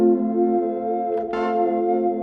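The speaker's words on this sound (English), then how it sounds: "the second patch I made is sort of a retro keys patch" A retro keys patch on a Softube Model 77 dual-layer synth, with one layer crossfading into a brighter upper harmonic layer. It sustains as a warm chord with a short swell midway through, and nobody speaks.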